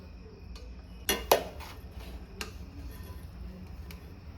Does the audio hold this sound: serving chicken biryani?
yes